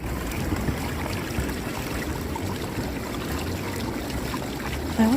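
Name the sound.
ocean water at Myrtle Beach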